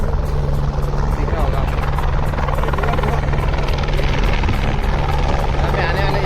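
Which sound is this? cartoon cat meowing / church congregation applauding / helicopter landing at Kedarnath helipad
helicopter landing at Kedarnath helipad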